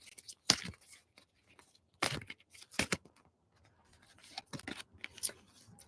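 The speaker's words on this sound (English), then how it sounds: "I'm having a hard time shuffling today, guys." Tarot cards shuffled by hand, giving sharp, irregular papery riffles and flicks in short bursts separated by quiet gaps, close and fairly faint.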